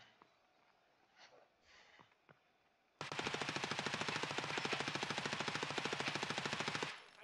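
A full magazine emptied in Tarkov Arena as one long unbroken automatic burst of evenly spaced, loud shots lasting about four seconds, preceded by faint background noise and cut off abruptly.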